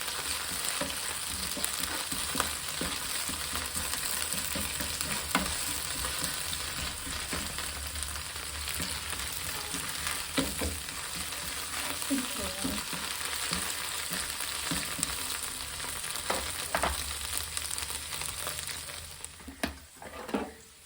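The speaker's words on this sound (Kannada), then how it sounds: "ಶುಂಠಿ ಬೆಳ್ಳುಳ್ಳಿ ಪೇಸ್ಟನ್ನು ಆ್ಯಡ್ ಮಾಡಿ ಆ್ಯಡ್ ಮಾಡಿ ಚೆನ್ನಾಗಿ ಫ್ರೈ ಮಾಡಿ" Ginger garlic paste frying in a pan, a dense, steady sizzle lasting throughout with intermittent spatula scrapes and taps, easing off near the end.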